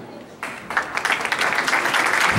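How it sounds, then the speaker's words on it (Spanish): Applause from an audience at a school swearing-in ceremony rises quickly into a dense, lively clapping that carries on steadily, with a voice faintly underneath. "Fuerte aplauso para nuestro municipio escolar"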